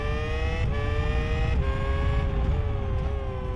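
A race car engine screams at around 160 miles an hour in a racing simulation game, a steady high-pitched whine with brief dips at gear shifts, loud and continuous.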